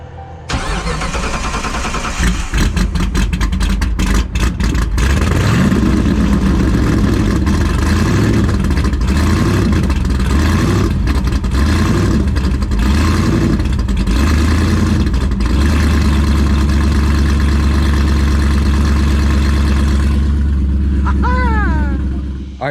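A car engine fitted with a newly installed Fore Innovations triple fuel pump setup cranks and fires on its first start, then revs loudly in repeated rising and falling bursts before settling into a steady, heavy idle.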